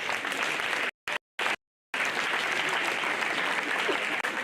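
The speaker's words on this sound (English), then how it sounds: "May we continue to give Him an applause." Sustained applause from an audience at a secondary school inter-house debate competition, a thick continuous roar of many hands broken by a few abrupt cuts.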